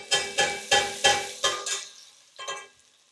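Caramelizing food stirred in a pot on the stove, a spoon striking the pot in five quick, evenly spaced knocks and then one more after a pause, each with a brief sizzling scrape, close and without talk.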